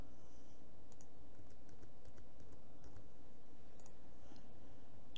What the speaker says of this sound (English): we're just using the arrow keys to go back up